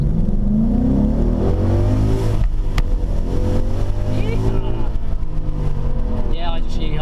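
A Ford Mustang GT with a 5.0 V8 pulls hard under acceleration, a deep loud engine drone rising and falling through the gears close by, with people talking over it.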